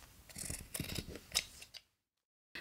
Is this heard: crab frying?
no